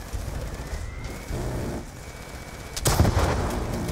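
Gunfire in Call of Duty Black Ops 2 pops repeatedly against a rumbling battle background, with a sharper, louder burst of shots about three quarters of the way through.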